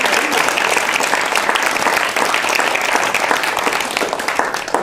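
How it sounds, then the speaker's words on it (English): An audience applauds steadily and loudly after a school's one-act plays, a dense wash of clapping from many hands that holds for several seconds before easing slightly at the end. "can we give her another round of applause?"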